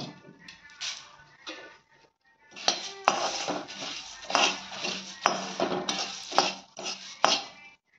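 Dry puffed rice is stirred in a kadhai with a metal spoon, giving close, irregular scraping rustles and clinks against the pan after a brief quiet pause.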